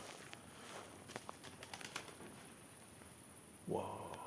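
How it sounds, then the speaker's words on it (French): Inside a quiet manor, scattered faint clicks and taps are followed near the end by a sudden burst of wing flapping as a bird takes off overhead. "t'as un oiseau qui décolle au-dessus de ta tête"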